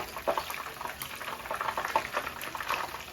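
Fish frying in hot oil, a close, steady crackling sizzle with dense popping bubbles and no voices.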